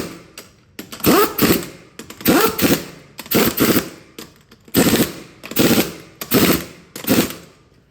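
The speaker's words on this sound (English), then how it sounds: "If you think my gun sounds different, it's because I turned the pressure all the way down" Pneumatic impact gun run at low air pressure on a wheel of a 2003 Ford Escape, loud near rattling bursts of about a second each, repeated eight times with short pauses between.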